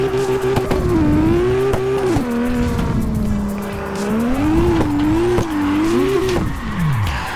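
A drifting car in CarX Drift Racing whines at high revs and squeals its tires, its engine pitch rising and falling through several downshifts before dropping away at the end; loud and close, with no talk.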